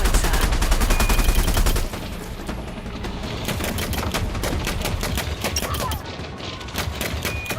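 Rapid bursts of ship weapons fire in the space combat game Elite: Dangerous, a dense, loud, sustained clatter of shots with a heavy low rumble fading after the first two seconds.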